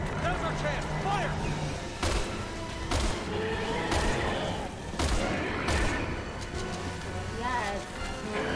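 Gunfire in the Resident Evil 6 video game, several loud bursts of shots spaced a second or so apart over a busy backdrop of game sounds and voices.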